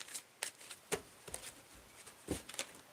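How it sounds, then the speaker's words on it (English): A deck of tarot cards being shuffled by hand at close range, quiet irregular riffles and patters with several sharper snaps, no talking. "I want to make sure I get a good shuffle"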